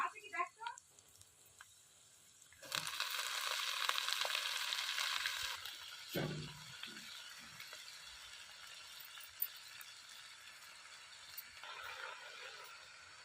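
Red amaranth leaves dropped onto onion and green chilli frying in a pan bring a sudden loud sizzle that lasts a few seconds and then settles into a quieter crackle, with a voice talking at times.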